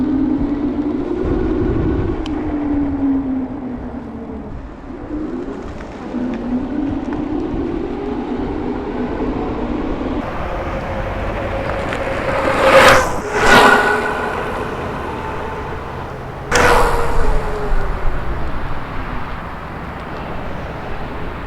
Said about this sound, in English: we're gonna do a whiz by here, just so you can hear the tires.